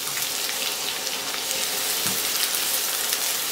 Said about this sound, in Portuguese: Vamos deixar fritar um pouquinho.